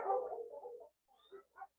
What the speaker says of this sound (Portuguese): Eu peço desculpas pelo cachorro latindo, é o cachorro do vizinho ali.